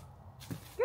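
A pet dog gives a short, close yip that rises into a brief whimper at the end, faint and quick, outdoors with no talking.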